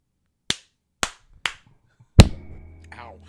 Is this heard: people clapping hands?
yes